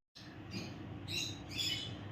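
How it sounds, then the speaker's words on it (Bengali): Pet lovebirds chirp and tweet in a steady, fairly close chatter, with brighter bursts of calls coming over a continuous low background rumble in a home kitchen. "আমার সব পাখিগুলো লাভবার্ড সব মানে কুচুন কুচুন করে করে করে যাচ্ছে সকাল থেকে।"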